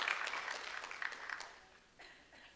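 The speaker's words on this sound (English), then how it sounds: "One more round of applause for Brian Landeros" Audience at a school board meeting applauds an award winner, a burst of clapping that tapers off over a couple of seconds with a faint voice near the end.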